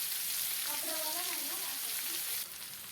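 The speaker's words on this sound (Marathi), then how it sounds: "तिलापी रवा फ्राय." Tilapia rava fry sizzles on a hot tawa, a close, dense frying hiss with faint crackles that continues steadily and drops slightly near the end, with no talking.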